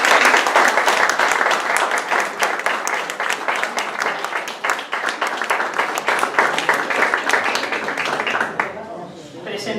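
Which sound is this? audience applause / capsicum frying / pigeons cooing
audience applause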